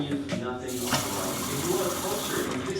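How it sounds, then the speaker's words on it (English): Water from a tap runs steadily into a blender jug, a continuous close splashing stream lasting a few seconds while a protein shake is being prepared. "Put a little bit of water in."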